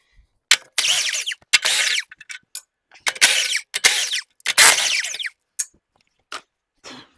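Wheel removal on a Toyota Prius for a front brake job: scattered bursts of ratcheting and clanking metal, several short loud clusters separated by quiet gaps, close by.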